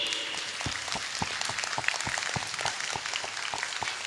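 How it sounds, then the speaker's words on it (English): Applause for the team at a school function: steady clapping from a crowd of moderate size, with sharp individual claps standing out over a dense continuous wash. "So huge round of applause to the whole team"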